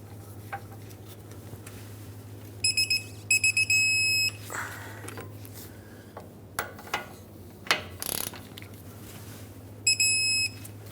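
Short electronic beeps sound in a few clustered bursts over a steady hum and scattered shop clatter while lug bolts on a 2003-2009 Dodge Ram 2500 wheel are torqued to 145 foot-pounds with a torque wrench.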